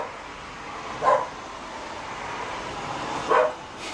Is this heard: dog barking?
yes